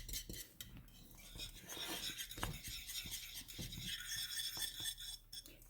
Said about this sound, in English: I'm just whisking it because I really want it to kind of combine well